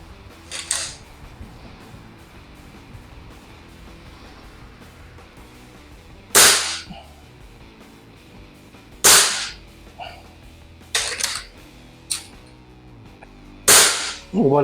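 Gamo BigCat 1200 4.5 mm air rifle fired outdoors: five sharp, loud cracks spaced several seconds apart, each standing alone above a faint steady background.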